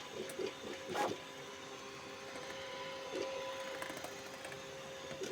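A 3D printer prints with a steady mechanical whir and thin stepper-motor tones, with a few louder bumps and occasional scraping that may come from the loose part rubbing against plastic. The sound is moderate and continuous, with no talking.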